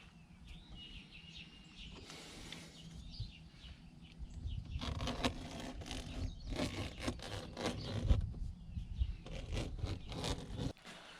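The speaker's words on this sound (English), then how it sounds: "Then with a case cutter and a sharp blade," A case cutter with a sharp blade slicing through a drawer liner in a garage, a steady raspy zipping rub that builds in loudness and runs for several seconds before stopping abruptly.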